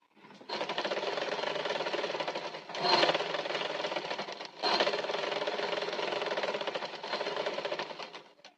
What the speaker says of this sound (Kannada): ಇಲ್ಲೇ ಈ ತರ ಫೋಲ್ಡ್ ಮಾಡ್ಕೊಂಡು ಇಲ್ಲೊಂದು ಸ್ಟಿಚ್